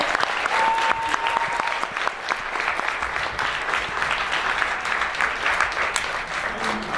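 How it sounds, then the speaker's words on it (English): Audience applauding at the opening ceremonies of the Anthro New England 2015 convention, sustained dense clapping from a large crowd in a hall, with faint cheering mixed in. "big round of applause for Jordan"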